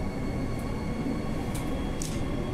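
Steady low rumble of an Airport Line train running through a tunnel at night near Redcliffe Station, a constant broadband roar with a couple of faint high hisses or squeaks along the way.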